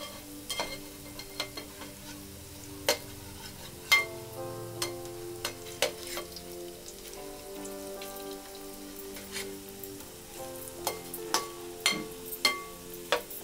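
Chicken vadalu fritters fry in hot oil, a steady low sizzle with crisp pops and utensil clicks spaced every second or so as they are turned, close and fairly quiet, without speech.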